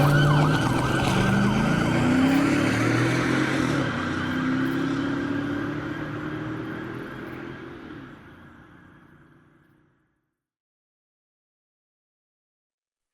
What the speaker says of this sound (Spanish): Encendí mis sirenas.